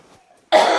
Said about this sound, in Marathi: मध्ये मध्ये खोकल्याचा त्रास जाणवतोय.